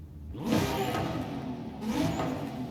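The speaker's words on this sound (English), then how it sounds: "This sounds like every other exhaust that's in Forza." A 90s car engine revs up twice in quick succession in Forza Horizon 5, a throaty exhaust rising in pitch then easing off, close and loud with no talking.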